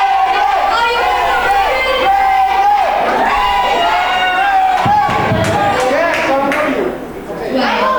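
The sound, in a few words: hometown wrestling crowd cheering loudly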